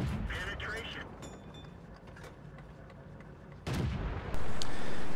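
Artillery fire in World of Tanks on the Malinovka map: distant booms and cracks over a steady low battlefield rumble, followed by a louder, closer blast near the end.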